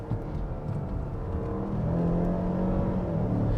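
A Mazda CX-5 SUV engine accelerates under load, a low steady rumble and whir that builds gradually in loudness from inside the cabin, with no talking.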